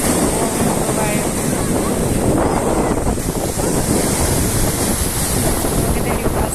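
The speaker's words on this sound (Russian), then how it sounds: "Такие волны бывают." Evening surf on the Gagra seashore in Abkhazia, waves rolling and washing up close in a steady rushing roar, mixed with wind noise rumbling across the microphone.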